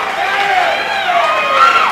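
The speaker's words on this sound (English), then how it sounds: "Crowd reacts." A wrestling arena crowd at a Southwest Championship Wrestling show roars and shouts in a loud, steady wash of voices lasting a couple of seconds.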